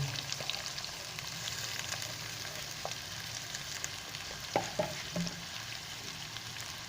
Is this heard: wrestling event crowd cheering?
no